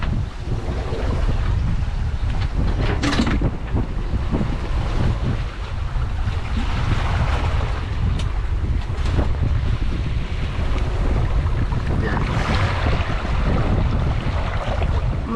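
Strong steady wind roars over a sailboat crossing the Atlantic at about five knots, with heavy buffeting on the microphone and waves washing against the hull throughout, no voices.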